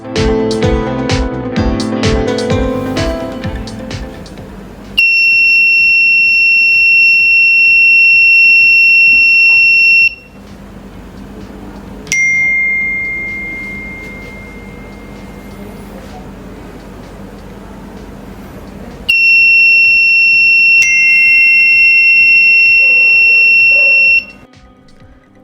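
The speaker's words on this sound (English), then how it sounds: "when the flame sensor detects the fire, it triggers the buzzer, turns the red LED on and sends a message" A buzzer on an Arduino Nano ESP32 flame-sensor fire alarm sounds in loud, steady high-pitched tones, in three long bursts of about five seconds each with gaps between, after a stretch of louder mixed noise at the start.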